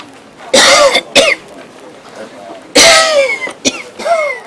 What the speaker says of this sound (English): What have you done about that cough?